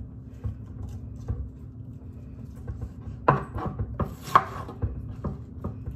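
A knife chops onion on a cutting board while meatloaf is prepared at home, giving a few sharp, uneven knocks and thuds against a low background hum.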